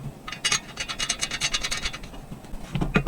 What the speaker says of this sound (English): I hand tighten the screws for now.